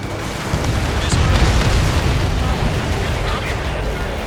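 An enemy transport blown apart in the flight-combat game Ace Combat 7, a loud, dense rumbling explosion that swells and rolls on without break, with faint radio chatter mixed underneath.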